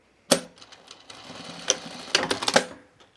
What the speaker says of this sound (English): So we're just going to sew it in the seam allowance just through the elastic